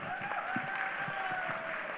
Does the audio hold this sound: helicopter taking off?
no